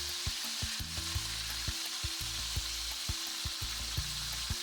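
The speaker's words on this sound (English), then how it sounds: "So the fish has been frying for about 10 minutes." Steady, dense sizzling of snapper frying in hot oil, with occasional soft clicks and taps of utensils against the pan.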